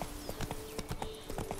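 A horse's hooves clip-clop at an easy walking pace through a morning town in The Witcher 3: Blood and Wine, a quiet, steady rhythm of soft thuds beneath a faint ambient hum.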